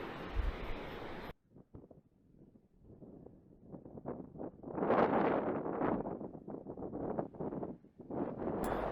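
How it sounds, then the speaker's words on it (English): Strong gusting wind buffets the microphone on Tiritiri Matangi island, rising and falling in loud rough surges with rustling, after a brief burst of hiss at the start. "Suffice to say, it was a lot windier on day 3 than it was on day 2."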